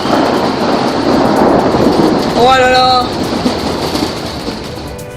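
Heavy rain pours steadily during a summer 2013 thunderstorm, with a rumble of thunder in the mix and a voice briefly exclaiming over the downpour.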